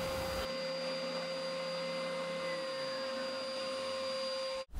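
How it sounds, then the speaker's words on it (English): A Triton belt and spindle sander runs with a steady whining drone and high tonal hum shaping wood, close and constant for several seconds before abruptly stopping. "put it back onto the Triton belt and spindle sander"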